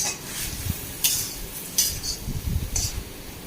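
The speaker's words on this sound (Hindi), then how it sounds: "इसको कड़छी से, खुरपी से टमाटर और साग को ऐसे चलाते रहेंगे" Tomato and leafy greens are stirred and pressed with a ladle in an iron kadhai, giving intermittent metallic scrapes and clinks over a soft sizzle, with a few sharper strikes spaced through the stretch.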